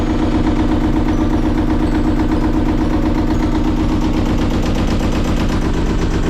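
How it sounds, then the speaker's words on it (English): An old diesel engine on a Hughes Columbia 8.7 sailboat runs steadily at idle, a loud, close, rapid knocking thrum that continues unbroken with no talking. "The old diesel's running."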